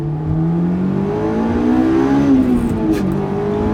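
A Honda S2000 four-cylinder engine revs hard and high toward 9,000 RPM, its pitch climbing and falling in a loud, continuous snarl close by.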